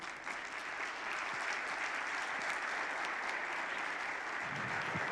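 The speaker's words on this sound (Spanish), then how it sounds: "para quienes pido por favor un fuerte aplauso" Steady, dense applause from a seated audience at a business leaders' summit in Peru, welcoming bank CEOs onto a panel; the clapping stays full and even throughout with no break.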